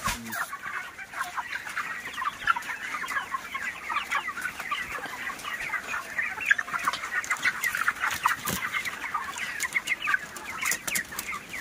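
A dense flock of 28-day-old broiler chickens on a poultry farm fills the air with continuous overlapping clucks and chirps, steady and moderately loud throughout.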